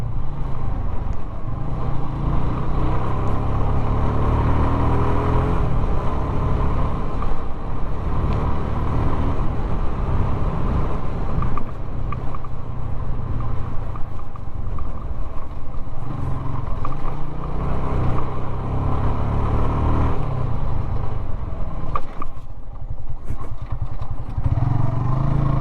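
Continuous loud motorcycle engine noise while riding, a steady rumbling drone with small revs and clattering bumps, no voices.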